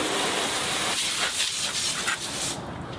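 Water from a CNC-machined Fire Hose Ultimate nozzle rinsing down a car's surface, a continuous close hissing spray that shifts slightly in tone as it moves, with no talking.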